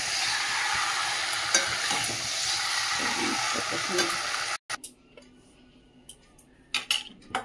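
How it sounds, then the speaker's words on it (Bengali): Meat stir-fried (kosha) in a pan gives a steady, loud broadband sizzle for several seconds, then stops abruptly and leaves a quiet stretch with scattered clinks and scrapes of a utensil against the pan. "চল মাংসটা ভালো করে একটু কষানো হোক"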